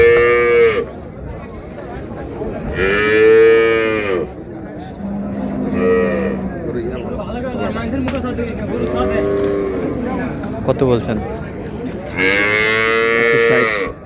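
Dairy cows and calves at a rural cattle market, Raniganj haat, low in several loud, drawn-out moos spaced across the scene, close by, with buyers and sellers talking and bargaining in between.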